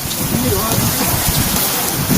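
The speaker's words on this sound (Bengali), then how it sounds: "বৃষ্টি অনেক বৃষ্টি পড়তেছে" Heavy rain pours steadily at a train station, a dense, continuous roar of drops hitting roofs and platforms that stays loud and even throughout.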